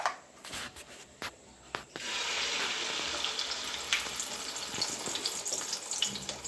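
Beaten egg mixed with onion and green chilli is poured into a hot frying pan. A few knocks and rubs come first, then a sudden steady sizzle rises and continues close by.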